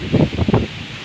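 Strong wind gusts rustle through foliage in a few loud, close surges over about a second, then ease to a softer background rush.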